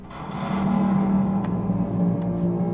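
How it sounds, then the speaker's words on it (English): A deep, droning metallic tone from a garbage can lid pitched down an octave, with a heavy reverb tail, swells and lingers, with faint clicks near the end and no voices. "that's really just a garbage can lid pitched down an octave with a little bit of reverb on"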